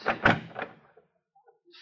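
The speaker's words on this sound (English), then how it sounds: "Now, there's the door to the little room, Thorne" A door opens in an old radio drama, a few quick knocks and creaks at close range before the sound fades into near silence with faint small noises trailing after.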